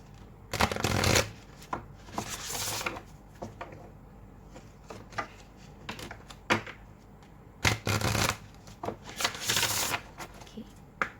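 Oracle cards are shuffled in quick riffling bursts, with softer slides and taps as cards are handled and drawn from the deck, close and crisp in an otherwise quiet room.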